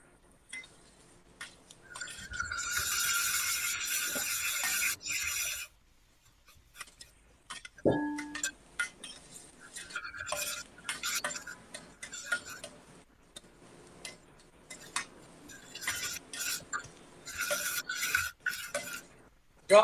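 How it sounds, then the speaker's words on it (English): Leeks sauté in a pan, heard as a loud sizzling hiss that rises, then continues in intermittent bursts mixed with clinking and scraping of a utensil against cookware. "I'm going to start with the leeks. Just saute the leeks."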